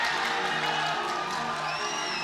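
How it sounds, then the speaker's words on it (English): A boxing arena crowd cheers and whoops during a fight between John Riel Casimero and Filipus Nghitumbwa, a loud continuous roar with shouts rising above it. "Crowd coming to life."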